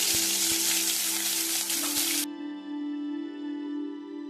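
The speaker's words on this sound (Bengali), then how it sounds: "হিংটা দিয়ে কয়েক সেকেন্ড ভাজার পর ওর মধ্যে দিল 1 চামচ আদা বাটা" Ginger paste hits hot oil with asafoetida in a pan, producing a loud close sizzle that abruptly drops away into a quieter tonal hum with a faint lingering crackle.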